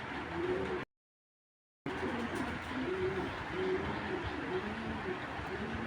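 Soft, low pigeon coos repeat over a steady hiss of background noise, with a brief dropout of silence early on; large female Pakistani giribaz pigeon.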